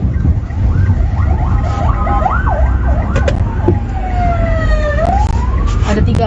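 An ambulance siren wails repeatedly as it passes along a street after an earthquake, rising and falling in quick sweeps before one long slide, loud over a steady rumble of traffic and street noise.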